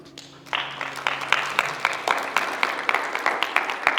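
Applause breaks out in a church congregation after a low hum, with many hands clapping in a lively, rhythmic patter that carries on steadily at moderate volume.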